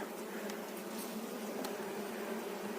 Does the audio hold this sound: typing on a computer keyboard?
no